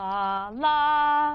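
Two sustained tones a fifth apart, a lower note gliding up into a higher one, like a synth or whistle-like voice, clear and alone.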